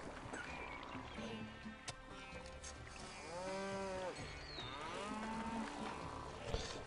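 Cattle near ranches in the city-building game Pharaoh moo in several drawn-out, wavering calls that overlap one another, set against a soft ambient background.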